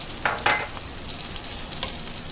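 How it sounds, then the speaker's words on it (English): Maida stirred and cooking in melted butter for a white bechamel sauce, a soft steady sizzle broken by a few brief scraping strokes of the spoon. "when the butter has started melting, we will add 3 tablespoons of maida"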